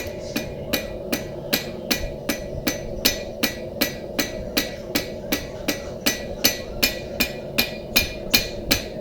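Hammer striking a metal workpiece in a steady, even rhythm of about two sharp ringing blows per second, close and loud, continuing without pause.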